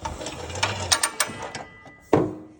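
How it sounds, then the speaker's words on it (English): A ratchet on a Vevor fuel hose reel mounted to a piece of wood clicks in a quick, uneven run of sharp ticks, then gives one louder, heavier click, close up and without speech. "It's got a pretty neat ratchet mechanism on there."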